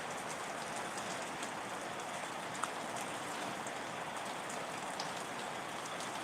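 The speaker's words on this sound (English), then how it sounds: "it does make it a little bit hard for me to move when it's raining out there like this" Steady rain falling outdoors, a dense even hiss of drops on surfaces with scattered louder drips, continuous and alone with no talk.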